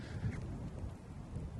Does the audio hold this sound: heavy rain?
yes